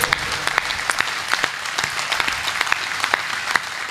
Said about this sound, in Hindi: तालियां उठाओ तो ऐसी उठाओ कि आपका जोश मुझ तक पहुंचे।